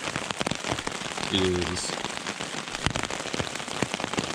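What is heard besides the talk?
rain falling on tent at campsite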